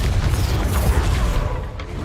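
Casting the Incendio fire spell in Hogwarts Legacy gives a loud, deep whooshing boom with a rumbling burst that lingers briefly before fading.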